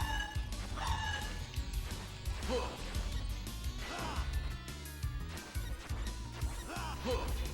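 Dog barks and yips from the PC Engine game Rondo of Blood, mixed into busy game music and impact effects, moderately loud throughout.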